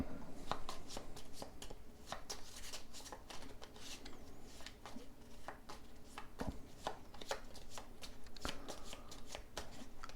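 Playing cards handled on a table during a card game: steady, close, crisp flicks and slides of cards in quick irregular succession, fairly soft throughout.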